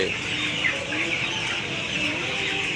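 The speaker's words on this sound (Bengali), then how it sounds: "মুরগি লাইন ধরে পানি খাচ্ছে" A flock of 18-day-old farm chickens clucks softly and continuously while drinking water in a line, a steady busy chatter of many birds close by with no clear speech.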